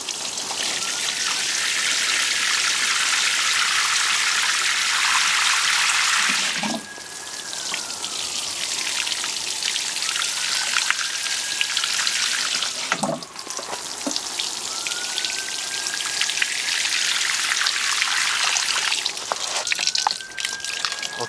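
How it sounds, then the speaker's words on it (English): Water pours steadily from a watering can onto container-grown potatoes in a polytunnel, a loud continuous splashing and hiss with brief breaks as the can is moved. "Okay, I'm going to give them a really good soaking."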